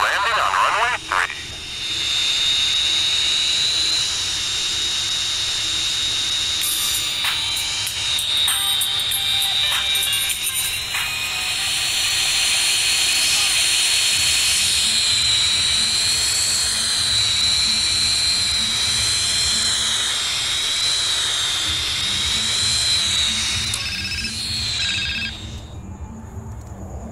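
A jet aircraft landing on a runway roars steadily at close range for the whole stretch, with a high whine over a broad rumble and faint electronic tones mixed in.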